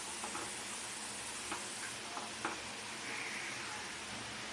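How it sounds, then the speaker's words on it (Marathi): Grated coconut is stirred in a hot pan over a low flame, making a steady soft sizzle and hiss with a few faint scraping ticks from the spoon, with no talking. "खोबरं चांगलं ढवळून घेऊया."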